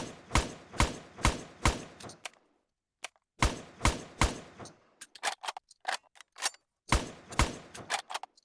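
Rasheed carbine from World of Guns firing in quick bursts of sharp, loud reports, several shots per burst, with short pauses between bursts and lighter mechanical clicks in between.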